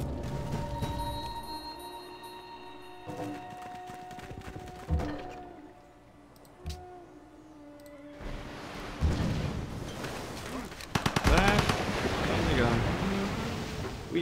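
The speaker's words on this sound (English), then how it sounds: "Sunk a pirate ship with bullets." Gunfire sinks a pirate ship in Civilization V: a rattling volley of shots bursts out over rolling ocean surf and wind, loud near the end, after quieter stretches of sea ambience with a few thumps.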